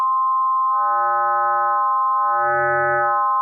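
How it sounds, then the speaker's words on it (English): A sine wave tone from the Massive X synthesizer plays as a clean, steady electronic pitch with faint extra harmonics, plus two softer swelling notes underneath, held alone without talk. "Let's go to sine wave."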